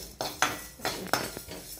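Coriander, cumin and sesame seeds are dry-roasted in a pan, with about four or five sharp metallic clinks and scrapes of a spoon against the pan in an uneven rhythm and no talking.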